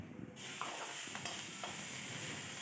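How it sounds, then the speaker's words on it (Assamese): Chopped onions and green chilies heat in a dry wok with no oil, giving a faint steady hiss and sizzle with a few light scraping stirs. "এয়া পিঁয়াজ আৰু জলকীয়া তেল নিদিয়াকৈ কেৰাহীত অকণমান গৰম হ'বলৈ দিছে।"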